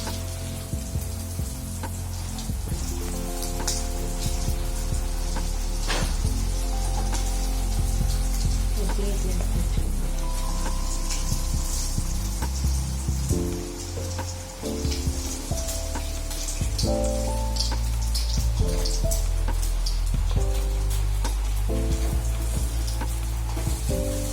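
Paneer cubes frying in hot oil, giving a steady, close, continuous sizzle with small pops and crackles throughout.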